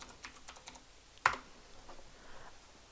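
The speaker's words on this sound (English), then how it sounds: "you might notice that I have got a new mechanical keyboard, so don't let it drive you crazy" Someone types on a mechanical computer keyboard, giving soft, close key clicks with one sharper, louder clack partway through. The room is otherwise quiet, with no one speaking.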